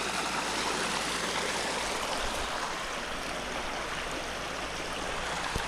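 Stream water flowing steadily around bare feet, a continuous close rushing and gurgling wash with no talk.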